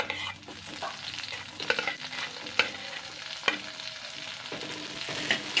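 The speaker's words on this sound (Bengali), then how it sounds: "এবার আমি কুচানো পেঁয়াজটা দিয়ে দেবো" Chopped onions fry in a pan with a soft, steady sizzle, broken by clinks and scrapes of a spoon stirring them at close range.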